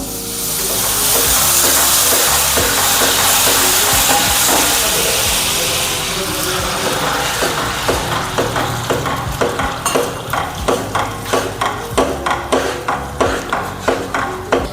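Water hits butter and sugar in a hot pan for strawberry French toast, bursting into a loud, broad hiss that slowly fades into regular scraping stir strokes.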